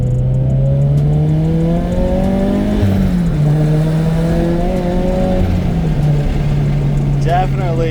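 A turbocharged Subaru BRZ, running with a block-off plate, pulls hard in second gear, its engine note rising steadily and loudly through the revs before a brief shift-like dip and recovery near the end.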